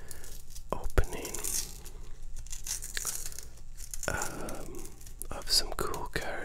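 A 1989 Baseball Legends wax card pack torn open up close, crisp rips and crinkling wrapper paper in bursts, under soft whispering.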